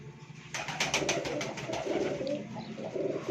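Pigeons coo in a pigeon loft under the old wooden roof of an old building in Wazirabad. Low, steady cooing runs throughout, with a burst of fluttering, flapping sounds near the start.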